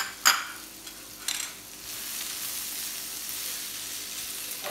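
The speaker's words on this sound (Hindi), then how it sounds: "इसको दो तीन मिनट अच्छे से भूनिए।" Jeera aloo potatoes frying in a pan with spices, stirred with a spoon: a steady soft sizzle runs throughout, with a couple of sharper scraping stirs near the start, close and fairly quiet, no talking.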